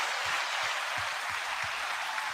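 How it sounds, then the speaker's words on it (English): Steady, dense applause from a crowd, loud and sustained throughout, with a few low thumps beneath it. "The one and only Elle Janelle, 9-second applause."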